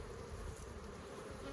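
Honey bees hum around an open hive box during an inspection, a steady, dense, moderately faint buzz throughout with no talk.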